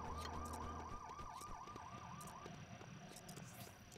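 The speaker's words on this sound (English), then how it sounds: "I hear police sirens" A wailing police siren cycles rapidly up and down over background rumble and scattered clicks, then stops partway through, leaving ambient noise, in the video game LEGO City Undercover.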